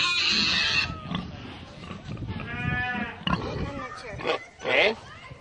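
Pigs grunt and squeal at a county livestock show, heard through steady crowd chatter and nearby voices, with a louder squeal rising near the end.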